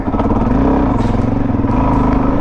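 A Suzuki DRZ400 with 15/38 gearing chugs along rocky single track, its single-cylinder engine thumping loudly and close in a steady low pulse with slight throttle swells.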